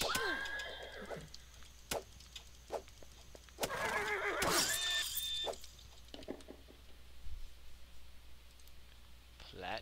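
A horse whinnies in the space-exploration game Starbound, a bright shrill neigh breaking out mid-clip among scattered clicks and game effects, with a shorter call near the start.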